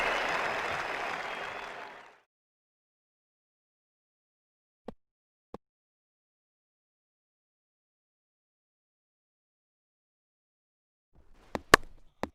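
A cricket crowd at an India versus Australia Test match claps for a boundary, a dense burst of applause that fades out after two seconds, followed by silence broken by a few sharp isolated knocks and clicks.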